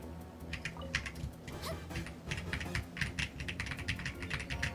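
Rapid typing on a freshly cleaned computer keyboard, with dense, crisp key clicks in quick irregular bursts, close and loud, with a faint low hum underneath.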